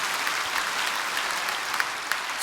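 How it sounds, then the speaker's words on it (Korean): A church congregation at Saeeden Church claps steadily together, a dense, even patter of many hands that fills the room from start to finish. "박수 한번 합시다. 박수 한번."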